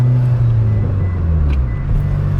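A DSM/Evo car with a 5-speed manual gearbox, its engine droning low and steady inside the cabin, pitch dipping slightly as gears change.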